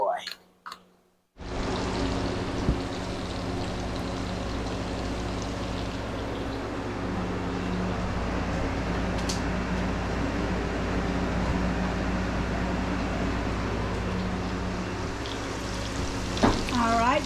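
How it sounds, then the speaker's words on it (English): Food sizzles steadily in a hot pot on a home kitchen stove while it is stirred, a continuous close frying hiss with faint clicks and a voice at the very start. "Let that man stir that pot."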